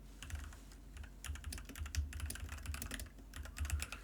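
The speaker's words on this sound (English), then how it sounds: "I'm going to type some other stuff here." Keys clatter on a computer keyboard in quick, uneven bursts of clicks and taps, close and fairly quiet, with short pauses between runs and no voices.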